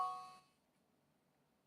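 A phone's voicemail notification rings out as a bright, ringing chime that decays over about half a second into quiet room tone, with a small click at the end.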